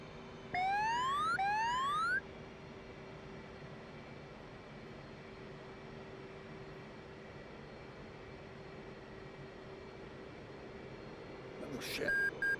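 F/A-18 Hornet jet on a carrier landing approach: a faint, steady engine drone throughout, with short rising electronic tones near the start and a brief burst near the end.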